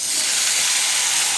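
Tomatoes and green chilies sautéing in a pan give a loud, steady, close hiss of sizzling that holds evenly throughout.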